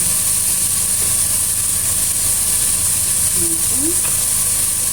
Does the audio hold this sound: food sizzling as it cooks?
yes